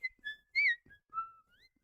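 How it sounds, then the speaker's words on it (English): A person whistles a short freeform melody alone, several clear sustained notes with bends and slides, close and fairly soft, recorded into a laptop for an EDM production. "I will whistle into my laptop and record my whistling, right? And I'll just whistle any melody."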